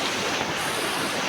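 A big river flows with a constant heavy rushing hiss, close and unbroken, with no talking over it.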